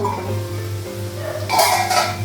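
A metal lid set onto a cooking pot on the stove, a brief clattering clink of metal on metal near the end over a low steady kitchen hum.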